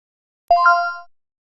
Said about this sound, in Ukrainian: І ось таке звукове сповіщення ми отримали